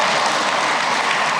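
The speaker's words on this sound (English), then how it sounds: "You could clap if you wanted to." An audience clapping at a mayoral celebration, with a brief dense wash of many hands that stays steady and fairly loud.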